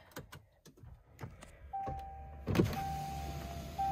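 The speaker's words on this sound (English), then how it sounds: "I have to roll down the window" Electric window on a Range Rover passenger door motors down with a steady whine, preceded by faint clicks and handling noises inside the quiet cabin, no talk.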